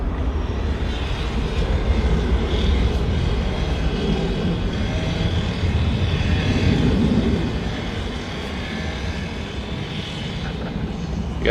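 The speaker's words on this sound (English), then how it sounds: "the Emirates A380 about to drop the gear" An Emirates Airbus A380 on final approach to Manchester Airport, its jet engines producing a steady, broad, loud roar that swells slightly midway and then eases, with no voices.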